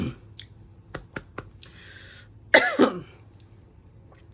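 A single person coughing hoarsely, a short harsh burst with a second spasm right after, close and fairly loud, preceded by scattered faint clicks and light rustling.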